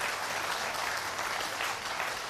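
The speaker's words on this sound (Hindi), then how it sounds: "लेकिन ताली तो बजा दिया करो भाई" An audience at a Hindu religious gathering claps together in a dense, continuous burst of applause, loud and even throughout with no voices over it.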